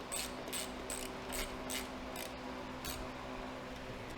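Fasteners on a BMW K1600GTL motorcycle fender extension are snugged down with a ratcheting tool, giving about ten quick, quiet clicks in an uneven rhythm over a low background hum.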